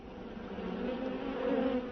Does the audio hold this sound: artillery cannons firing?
no